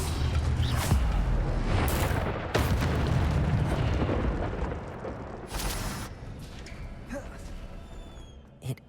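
A fire spell cast in a Harry Potter video game gives a loud booming burst among several blasts, with a rumbling low roar and a few sharp cracks.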